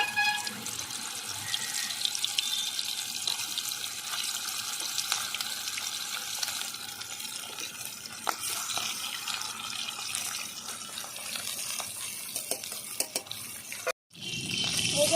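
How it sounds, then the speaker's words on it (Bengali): Salted, turmeric-rubbed stingray pieces fry in hot mustard oil in a wok, giving a steady, dense sizzling hiss that runs on with a brief break near the end. "মাছে নুন হলুদ মাখানো আছে দিয়ে দিচ্ছি ভাজার জন্য"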